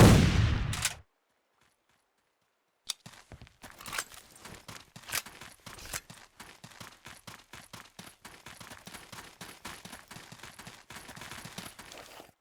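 Civil War-era gunfire crackles in History Civil War: Secret Missions: after a loud opening burst and a few seconds of silence, scattered distant shots and volleys pop irregularly over a battlefield.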